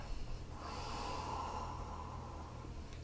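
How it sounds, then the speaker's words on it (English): A person takes a long nasal sniff of homemade bourbon-barrel beer with malt and vanilla character, a steady close breathy inhale lasting a couple of seconds over faint low hum, with no talking. "So let's give it a sniff test."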